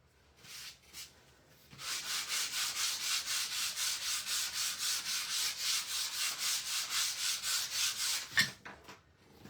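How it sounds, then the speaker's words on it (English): A wooden cutting board sanded by hand with 80-grit sandpaper, a fast, even series of close rasping back-and-forth strokes following a few brief scrapes, ending with a thud. "I'm going to give it a quick sand."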